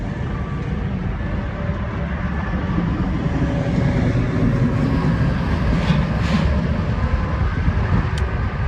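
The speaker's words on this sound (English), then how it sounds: "So every time a truck drives by, especially a straight pipe one, You can hear it." Heavy truck with a straight pipe exhaust passing on a nearby freeway, a loud continuous low rumble and roar that swells and fades, with traffic noise throughout and no talking.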